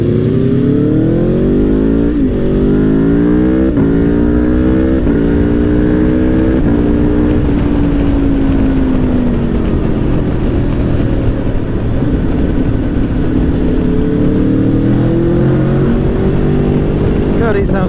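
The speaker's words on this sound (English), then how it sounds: "It sounds like a MotoGP bike." An Aprilia Tuono V4 1100 Factory motorcycle at a bike meet, its V4 engine revving hard and climbing through gears, loud and close, with a steady roaring drone that sweeps up and settles, continuing throughout.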